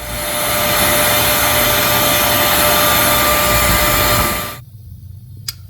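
A vacuum cleaner held over a gas fireplace thermopile to suck off dirt roars with a loud, steady whine for over four seconds, then cuts off into near silence.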